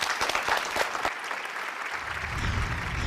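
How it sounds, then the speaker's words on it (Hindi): A studio audience on a TV dance competition show bursts into loud, dense applause that holds steady for about three seconds, with a few sharper claps standing out near the start. "जोरदार तालियां विच के लिए।"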